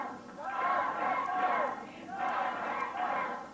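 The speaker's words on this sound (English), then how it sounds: "Crowd getting in behind Dutch Mantell." A Memphis wrestling arena crowd cheers and chants for Dutch Mantell in loud, swelling waves that rise and fall twice, a dense roar of many voices filling the hall.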